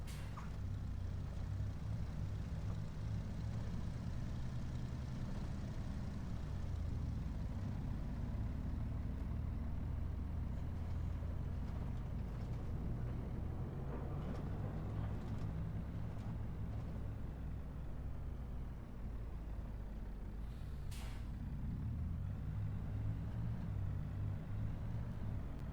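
A heavy farm truck in a Montana harvest simulator game rolls down a steep hill, its engine a low, steady rumble near and constant, with a brief hiss like an air brake late on and no talking.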